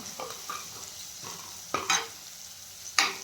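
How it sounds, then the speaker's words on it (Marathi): Green chili paste frying in oil for a rustic brinjal curry, a steady soft sizzle with a few sharp scraping stirs of the spoon in the pan, close and clear with no talking. "यार चांगला खमंग असा सुगंध सुटेपर्यंत आपल्याला हे तेलावर परतून घ्यायचं"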